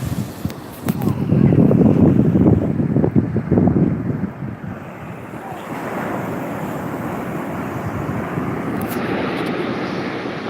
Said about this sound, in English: take a peaceful video of the waves